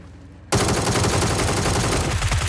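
Automatic gunfire erupting suddenly and loudly in PUBG: Battlegrounds as a player shoots at a BRDM armored vehicle, a sustained fast burst of rapid shots that continues to the end.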